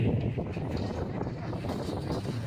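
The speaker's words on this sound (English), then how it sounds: "It is windy." Steady wind buffets the microphone at an outdoor Memorial Day ceremony at Galveston Naval Museum, a low blustery rumble with gusts, fairly faint and continuous.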